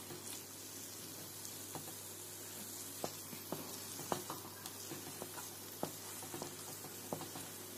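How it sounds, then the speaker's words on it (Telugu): A semolina gulab jamun mixture is stirred in a warm pan after a tablespoon of ghee goes in, making a faint steady sizzle dotted with irregular scraping ticks from the spoon. "1 టేబుల్ స్పూన్ నెయ్యి యాడ్ చేసుకుని అంతా కలిసే విధంగా కలుపుకుందాము"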